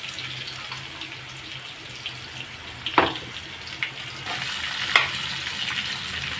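Pieces of raw mango hit hot tempering oil with dried red chillies and set off a steady, hissing sizzle. A few sharper crackles and stirring scrapes stand out as the pan keeps frying.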